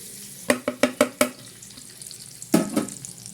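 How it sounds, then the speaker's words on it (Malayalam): Butter and flour cooking in a pan over a low flame for lasagna, with a soft sizzle under a quick run of five sharp taps of a utensil on the pan and a later stirring scrape. "അതിലേക്ക് ഇതേ ബട്ടർ ഇട്ട് കൊടുക്കുകയാണ് ലോ ഫ്ലെയിമിൽ വെച്ച് കൊടുക്കണം"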